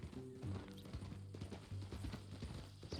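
Hooves of a horse in the video game Red Dead Redemption 2 clip-clop in a quick, uneven rhythm, fairly quiet and heard alone.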